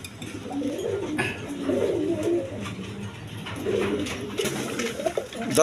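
Pigeons, including a large-crested pair, coo in soft repeated rolling calls close by, with faint background noise and no speech.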